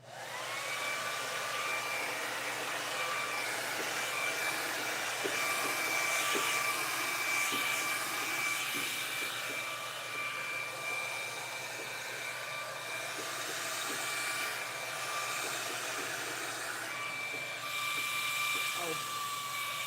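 A hair dryer on high heat blow-drying 4c hair makes a constant loud whirring rush, with brief clicks and brushing ticks scattered through it and a slight waver as the dryer moves.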